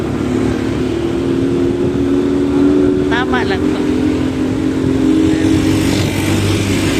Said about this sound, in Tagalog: Ingay ng mga motor.